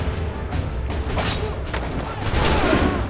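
Dense gunfire from the Assassin's Creed 3 video game, a sustained fusillade of overlapping shots and booms with a steady, loud roar for about three seconds.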